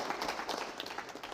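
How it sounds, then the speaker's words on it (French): A short, fairly faint burst of clapping from a small group of students of a communication and multimedia institute applauding on a television school show. "Vous pouvez vous applaudir."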